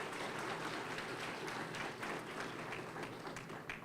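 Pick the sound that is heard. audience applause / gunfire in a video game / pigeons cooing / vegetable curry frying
audience applause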